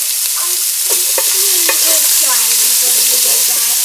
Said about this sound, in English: I'm going to add in 3 green onions, the whites and the greens that I've chopped out